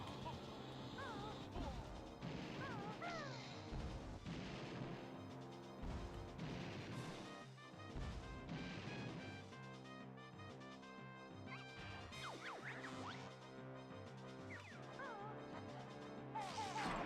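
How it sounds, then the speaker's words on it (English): Mortar bombs crashing down in Banjo-Tooie, a string of sharp smashing impacts and blasts repeating throughout, layered over busy game music and effects. "Bring out the mortars!"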